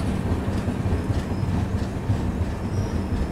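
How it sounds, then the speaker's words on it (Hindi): Konark Express passenger train pulling into Mahbubabad railway station in India, a steady heavy rumble of rolling wagons with rhythmic wheel clatter and faint squeal throughout, close and continuous with no talk. "ट्रेन पहुंच रही है महबूबाबाद रेलवे स्टेशन में, और ट्रेन का यहाँ भी हॉल्ट दिया गया है।"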